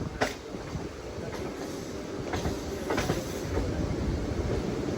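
MEMU passenger train running on rails between Palasa and Visakhapatnam, heard from inside as a steady rumbling roll with a few sharp clicks of wheels over rail joints, no voices.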